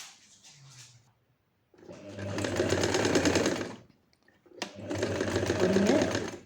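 Sewing machine stitching lehenga fabric in two loud, steady bursts of rapid mechanical whirring, each lasting about two seconds, separated by a short pause; a voice is faintly audible before the first burst.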